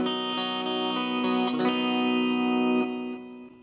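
An electric guitar plays through a Zoom G1X FOUR multi-effects pedal on a clean patch with acoustic simulation and delay, sounding sustained, ringing chords that shift twice and decay away at the end, with no talking.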